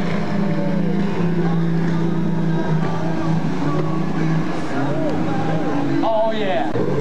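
A brand-new Evinrude 225 V8 outboard engine roars steadily up close on a boat at a 1995 West Virginia show, with excited voices talking over it throughout.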